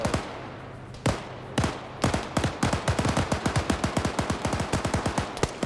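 Automatic gunfire in the Arma military game, a few spaced single shots that build into a steady rapid burst of loud close cracks, no talk.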